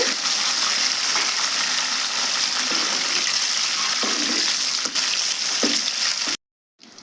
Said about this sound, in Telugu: పచ్చిమిర్చి అయితే బాగా వేగినాయండి